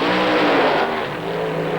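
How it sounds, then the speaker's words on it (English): A Top Methanol drag racing car with a 3-speed gearbox launches from the start line at a European drag racing event in Alastaro, Finland, a loud, close, ragged engine roar that eases slightly after the first second. "The left knee will come up, allowing the clutch out, and away on the run he'll go."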